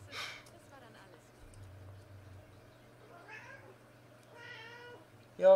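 A house cat meows several times, short close calls spaced across the moment, over a low steady hum from a racing video game, with a person's voice briefly present.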